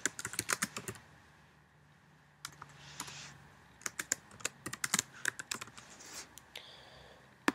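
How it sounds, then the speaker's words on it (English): Text being typed on a computer keyboard in quick bursts of crisp, close key clicks, with a quieter stretch midway before the typing resumes. "I'm just going to type the word have it all."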